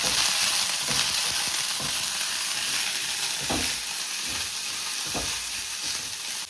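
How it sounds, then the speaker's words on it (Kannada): Mint leaves fry steadily in hot oil for a mushroom biryani, a dense continuous sizzle with a few soft spoon-against-pan knocks, close and fairly loud, no voices. "ಆಮೇಲೆ ಪುದೀನ ಸೊಪ್ಪು ಜಾಸ್ತಿ ಫ್ರೈ ಮಾಡ್ಕೊಳ್ತಾ ಇದ್ದಾರೆ"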